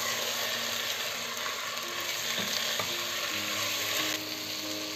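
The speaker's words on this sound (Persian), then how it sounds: "نیم کیلو گوشت خورشتی رو بهش اضافه میکنم. توی این مرحله 2 دقیقه با حرارت بالا گوشتم رو تفتش میدم" Half a kilo of stewing meat sizzles and crackles in a hot pan on high heat, a steady loud frying hiss with occasional scraping and stirring sounds.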